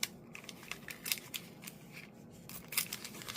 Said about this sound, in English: If it's hard to tear, use your scissors.